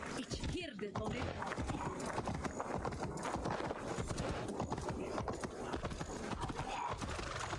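Horse hooves clip-clop at a gallop in the video game Assassin's Creed Valhalla, with a steady rhythm under a dense game soundscape and a brief whinny near the start, while a person talks over it.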